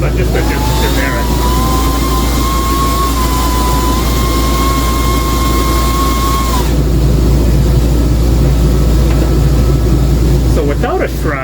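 A Winnebago RV air conditioner blows hard, a loud constant airflow roar with a deep low hum throughout, a faint whine in the first half, and voices talking over it.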